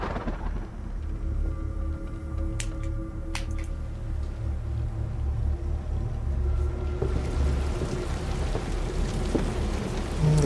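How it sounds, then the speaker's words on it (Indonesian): Inside a horror video game, rain pours steadily and a deep rumble of thunder rolls underneath, with a few sharp cracks early on and the downpour growing heavier and hissier toward the end. "Gak bisa keluar, hujan."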